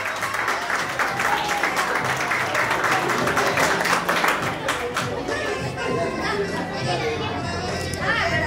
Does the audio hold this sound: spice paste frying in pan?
no